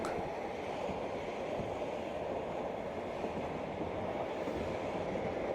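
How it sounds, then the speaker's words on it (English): Passenger train rolling across the Central Asian steppes, a continuous rumbling wheel-and-rail roar with faint rhythmic clatter, steady and moderately quiet throughout. "The train journey continues through the steppes of Central Asia"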